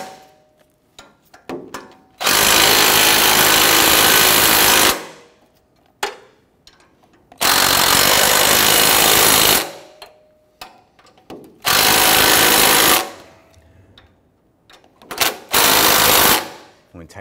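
A power tool tightens the catalytic converter flange bolts on a Nissan Frontier in three loud, sustained whirring bursts of a few seconds each, separated by clinks of tools and handling, with someone speaking in the pauses.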